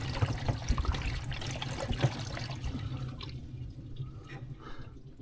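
Water trickles and leaks into the trunk of a Mazda 3 1.5 Skyactiv, a close, continuous low dribbling wash that thins out slightly toward the end.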